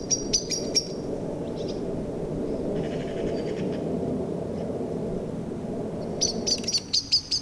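Blackbirds near their nest give sharp, repeated chirping alarm calls in quick bursts at the start and end. The calls are fairly close over a steady low outdoor rumble, with no talking.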